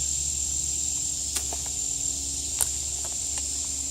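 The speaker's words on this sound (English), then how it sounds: "As you can hear there, the cicadas are singing their song today." Steady high-pitched cicada drone fills the woods continuously, with a few faint clicks and knocks scattered underneath.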